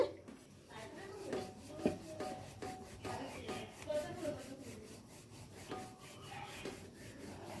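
Sattu-stuffed roti dough rolled out on a board, a rhythmic series of soft rubbing, scraping strokes close by, with a few light knocks of the rolling pin.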